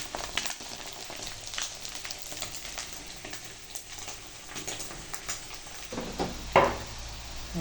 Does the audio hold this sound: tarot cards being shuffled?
no